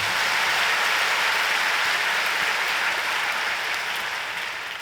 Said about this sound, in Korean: 성가대가 찬양을 참 잘 부르네요. 우리 박수 한번 더 주십시오.